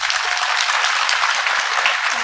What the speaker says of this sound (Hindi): तो ताली बजा के समर्थन करो एक बार